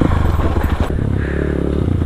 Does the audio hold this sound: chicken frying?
no